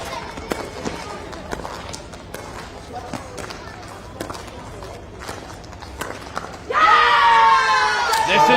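A crowd at a pickleball match in New Delhi bursts into a loud, sustained roar after a stretch of paddle pops and footsteps on court.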